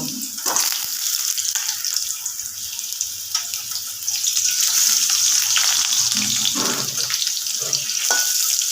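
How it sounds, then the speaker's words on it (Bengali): Water dripping from a spatula into hot oil where potato pieces are frying for a chicken kosha, producing a loud, crackling sizzle that swells and holds steady for several seconds at close range. "খুন্তিটায় কোনো রকমের জল পড়ে গেছে বলে তেলে পড়লে যেটা ছাক ছাক করছে"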